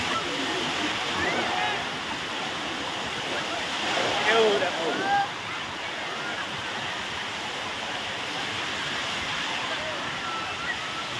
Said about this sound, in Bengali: বিরাট ঢেউ